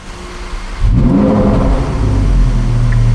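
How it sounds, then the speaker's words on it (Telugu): A Lamborghini Huracan EVO engine turns over after a brief quiet moment, then catches and rises into a loud, deep rev before settling into a steady, close idle rumble. "ఇప్పుడు నేను కార్ ఇంజన్ ఆన్ చేస్తున్నాను."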